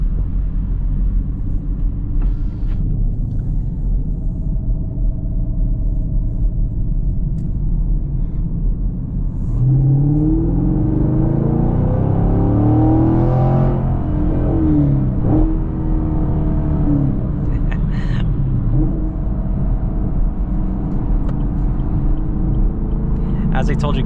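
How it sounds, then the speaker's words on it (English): A 2022 Chevy Camaro V8 engine rumbles steadily, then revs up with a rising exhaust roar midway, settling back to a deep idle burble; no one speaks. "this exhaust just sounds amazing"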